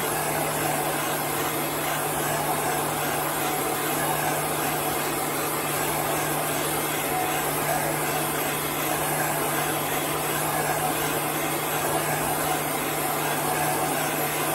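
A craft heat gun blows air continuously while drying chalk paste, making a loud, even whooshing drone with a steady motor hum that does not change for the whole stretch, with no talking.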